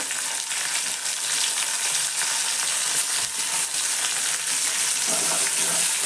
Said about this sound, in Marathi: बारीक गॅसवरती एकदम आपण भाजून घेऊया